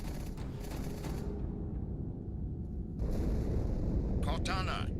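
Explosions in a Halo 2 cutscene rumble and roar in heavy, continuous low booms, with a second blast swelling midway and rattling debris near the end.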